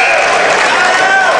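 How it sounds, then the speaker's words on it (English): Crowd cheering and applauding in a gym at a high school varsity boys basketball game, a loud continuous roar of many voices filling the space with no gaps. "we've allowed Adair County's crowd to get back in the game as well"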